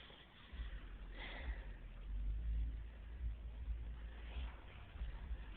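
A low, rumbling car engine idles in a neighboring driveway, steady and soft, with slight fluctuations in its throb.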